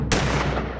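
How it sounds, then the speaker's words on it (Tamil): A cartoon double-barrel shotgun fires once with a sharp, loud blast that rings out and decays over the rest of the moment, with no voices. "சுடுதுடா. ரெட்டை குழல் துப்பாக்கி."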